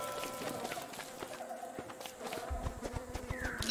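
Birds chirp and call outside an open window, a steady ambient twitter mixed with soft tonal background sound, moderately quiet throughout.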